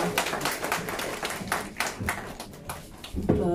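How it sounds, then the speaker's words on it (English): An audience at a children's hospital inauguration claps, a soft, steady patter of many hands heard at moderate distance with a slightly louder burst near the end. "Can we please have a loud round of applause for Ms. Sapthami Gowda?"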